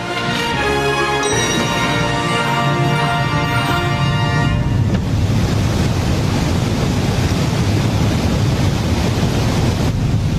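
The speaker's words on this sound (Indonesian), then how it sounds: "Jadi ini air terjun Iguazu." Rushing water of the Iguazu waterfall in a cartoon roars loudly and continuously, taking over from fading music partway through and filling the rest alone.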